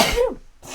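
One short, sharp sneeze brought on by allergies, close and fairly loud, heard during a tabletop board game session.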